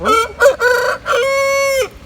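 A rooster crows once, a loud, close, ringing cock-a-doodle-doo that rises and then holds a long, steady final note for about two seconds. It is heard alone, with no talking.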